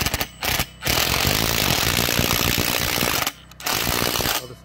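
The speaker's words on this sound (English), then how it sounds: "here's how we're bolting down the clamps and the panel" Solar panel mounting clamps being bolted down with a power tool on an off-grid installation, heard as a loud, close rattling whir in a long continuous burst between short bursts and brief pauses.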